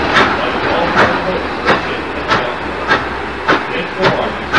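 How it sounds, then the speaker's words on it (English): Vintage steam locomotive hauling a passenger train on the Strasburg Railroad, heard as a steady rolling rumble with sharp rhythmic clacks or chuffs recurring about every half second, fairly loud and close. "The steam locomotive pulling our train today is open for night."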